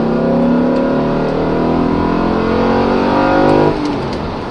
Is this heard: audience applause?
no